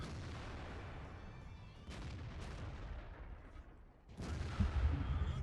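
Heavy tank cannon blasts from an SU-152 boom in a game, with deep rumbling echoes; one loud shot near the end is followed by a lingering low roar.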